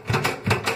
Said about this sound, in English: You want to hear that kind of sound when you're hitting up against the piping